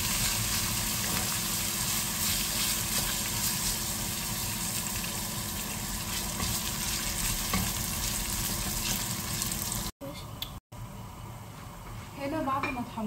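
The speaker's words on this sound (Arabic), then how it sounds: "هنا بعد ما ساحت الزبده هنحط الشعريه ونقلبها لحد ما تحمر" Vermicelli fries in melted butter in a pan, a dense steady sizzle with scraping stirs throughout, briefly cut off and then resuming with clinks near the end.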